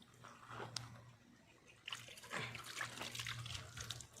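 Water from a hillside mountain stream trickles and splashes softly and continuously, faint and fairly close, with a low steady hum underneath.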